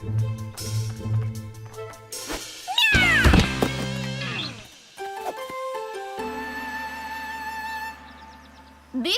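A cartoon cat meows amid busy, music-like tones and a few thuds, with a louder burst of clattering sound in the middle.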